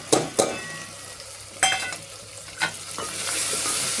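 Spices sizzling in hot oil in a pan for dal, with a spatula scraping and clinking against the pan in several sharp stirring strokes over a steady frying hiss that swells near the end.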